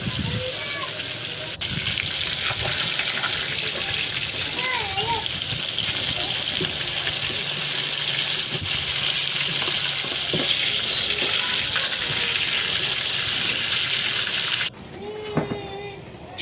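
Fish frying in hot oil makes a loud, continuous sizzling hiss that runs for most of the stretch before cutting off abruptly near the end, with faint voices in the background.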